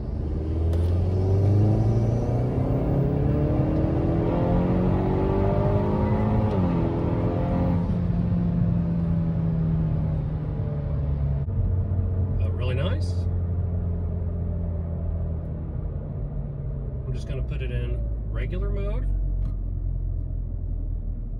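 A Hyundai N car running an N75 Motorsports tune accelerates through its gears, the engine droning and climbing in pitch with audible shifts, heard from inside the cabin and growing quieter later as clicks and knocks appear.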